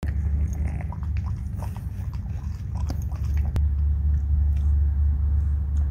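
Grilled greenling fish is chewed close to the microphone, with soft crunchy bites and mouth noises over a steady low rumble in the background, and no speech.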